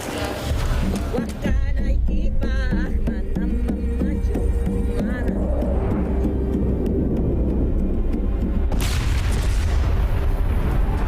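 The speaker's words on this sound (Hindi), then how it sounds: "उधर बम धमाका हुआ है।" Bomb blast in a film scene, a heavy low rumbling boom that swells and sustains over dense background sound, with a second surge of noise near the end and no speech.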